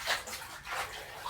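Warm water splashes and rinses over feet, a steady, soft running wash with gentle sloshing surges, heard fairly close and without talk.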